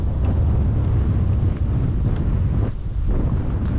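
Strong wind buffets the microphone in a loud, continuous low rumble, with no voices.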